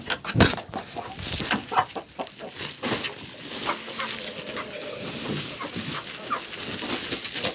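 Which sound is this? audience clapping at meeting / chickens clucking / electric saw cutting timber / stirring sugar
chickens clucking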